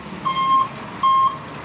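A tow truck backing up to tow away a car gives two steady electronic reversing beeps, each about a third of a second long, over a low idling background.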